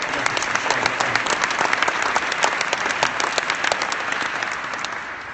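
A large corporate event audience at Peabody Place in Memphis applauds leadership, dense sustained clapping that fills the room steadily for several seconds before easing slightly at the end.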